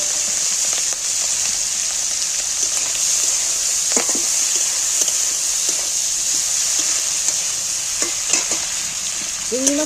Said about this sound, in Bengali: এবার তেলও খুব গরম হয়ে গেছে। আমি মাছগুলো তেলের মধ্যে তুলে দিই।